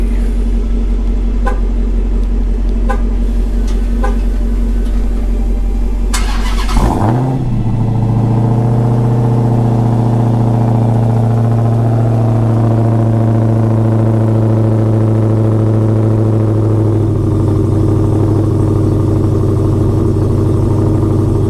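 A Hellcat V8 engine cranks and fires up loudly, blips once, then settles into a heavy, rumbling idle up close, with a small rev change near the end.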